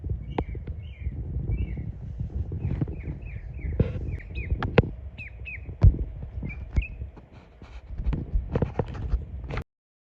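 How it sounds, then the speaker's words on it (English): A small but loud bird calls repeatedly near a blossoming garden tree, sharp squawking chirps in a quick uneven series over a background of rustling and low thumps, clear and fairly close, with no talking. "Oh, listen to that lovely bird."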